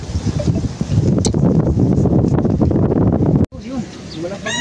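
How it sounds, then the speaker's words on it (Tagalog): Strong wind buffeting the microphone outdoors near riprap, a loud continuous rushing roar for over three seconds, broken by a sharp dropout, then quieter gusts with a voice speaking. "Lakas ng hangin talaga."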